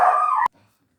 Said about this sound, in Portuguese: O cachorro latiu aqui